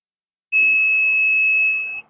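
A digital multimeter's continuity buzzer gives one steady, loud, high-pitched beep of about a second and a half. It starts abruptly and stops cleanly, with no talking over it.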